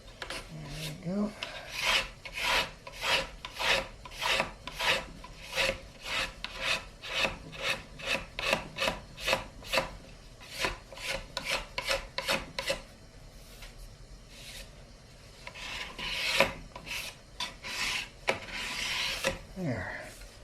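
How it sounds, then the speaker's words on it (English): Close, rhythmic rasping strokes of a sanding block worked by hand along a wooden guitar fretboard's binding, a long even series of back-and-forth passes with a few heavier scrapes toward the end. "So we'll do that with a sanding block"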